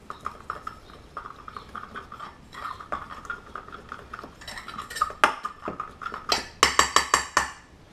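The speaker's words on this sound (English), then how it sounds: "I have a mortar and pestle, so I'll just use this." Pestle knocking and grinding in a mortar while making a warm tomato salad, a rhythmic series of close hard clacks that grow louder and more forceful toward the end.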